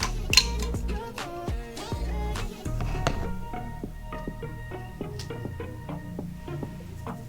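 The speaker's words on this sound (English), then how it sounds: "So I'm gonna remove the lid." A lid comes off a glass jar of fire cider master tonic with a string of close, bright clinks and scrapes against glass, then lighter taps as the jar settles.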